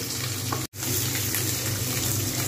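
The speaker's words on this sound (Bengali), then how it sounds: "এক পিঠ হয়ে গেছে মাছ ভাজা" Pabda fish fries in oil over medium-low heat, producing a dense, continuous close sizzle that breaks off for a split second before carrying on, with no voices.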